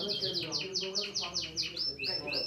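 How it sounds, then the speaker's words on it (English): Caged birds in a prison chirp and tweet in a rapid, repeated series of bright, sweeping calls, fairly close and loud, with a faint low background beneath them. "The prison chief, General Abdul Baki Besudi, has a fondness for caged birds"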